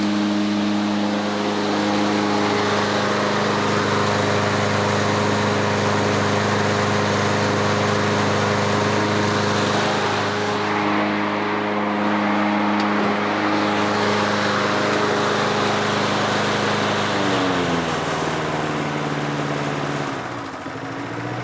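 An old Homelite lawnmower engine, blowing and huffing oil, holds a loud, steady high-speed drone up close, wavering slightly in pitch near the end as the revs shift.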